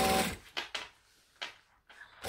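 A sewing machine backstitches a quarter-inch topstitch on a crypt carrier with drop-in lining, making a few short, quiet bursts of stitching with pauses between them.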